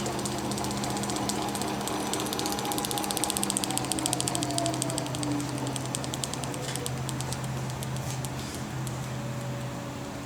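A rotor balancing apparatus on a Yates American B244 machine runs continuously, giving a steady mechanical drone with a fine rapid ticking chatter over a low hum, unbroken for the whole stretch.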